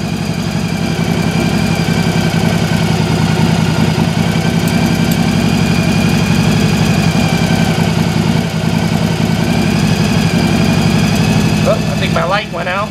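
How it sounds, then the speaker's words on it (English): A motorcycle engine idles steadily during carburetor synchronization, a loud, even, throbbing drone with a slight knocking pulse that runs throughout, close by and without speech. "you can hear the engine actually is starting to sound better"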